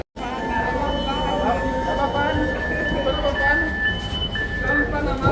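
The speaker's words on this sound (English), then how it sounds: "Waiting for the train." A train pulls into a station on the Simon's Town line in South Africa with a steady rumble and high, drawn-out wheel or brake squeals, heard close and fairly loud amid background station noise.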